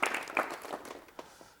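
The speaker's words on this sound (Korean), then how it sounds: "박수로 맞이해 주십시오." Studio audience on a Korean television talk show clapping to welcome a guest, a moderate patter of applause with a few sharper individual claps, fairly close and fading slightly toward the end.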